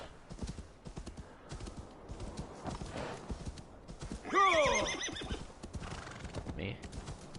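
A horse in the video game Assassin's Creed Valhalla lets out a loud, shrill whinny partway through, with clip-clopping hooves and some talk around it.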